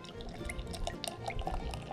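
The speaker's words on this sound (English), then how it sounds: "I'm going to give this a pour." Beer pouring from a bottle into a glass at a brew pub, a steady liquid stream with gurgling drips and splashes, close and clear, running alone without talk.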